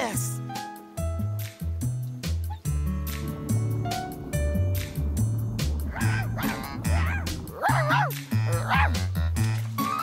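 A cartoon dog barks and yips in a quick series over a bouncy music track, with lively bursts of yelping near the end.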